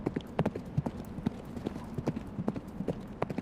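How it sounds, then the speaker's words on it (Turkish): Horse hooves clip-clop in a steady, uneven rhythm of sharp knocks, close and clear with nothing else competing. "Bir anda bir atın geldiğini gördünüz."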